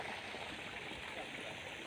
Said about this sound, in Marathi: हे पाणी चालू आहे